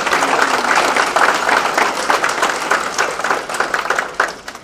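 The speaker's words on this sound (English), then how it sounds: "Let's give them a round of applause." An audience at a chamber of commerce awards dinner applauds, a dense burst of many hands clapping at once that stays loud and steady, then thins and tapers off toward the end.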